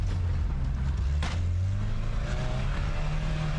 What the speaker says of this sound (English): let's drift